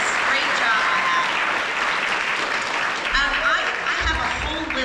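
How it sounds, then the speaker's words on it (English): School band audience applauding its soloists, a dense, steady roar of clapping that holds for about five seconds at even loudness, with faint voices mixed in. "Can we give them a round of applause?"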